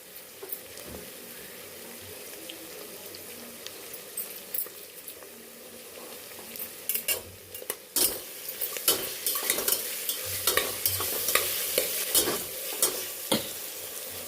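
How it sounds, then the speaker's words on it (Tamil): Green chillies and ginger garlic paste for chicken biryani frying in a pan, with a soft steady sizzle under intermittent stirring and the clink of a spoon against the pan, growing busier and louder in the second half. "இதோட நம்ம பச்சை மிளகாவும் போட்டு ஃப்ரை பண்ண போகிறோம்."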